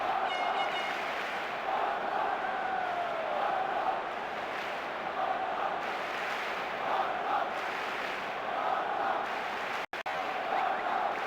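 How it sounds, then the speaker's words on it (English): Stadium crowd in the eFootball PES video game, a dense, continuous roar of massed chanting and cheering held at a steady level, with a brief dropout near the end. "The crowd wait to offer them a red-hot welcome."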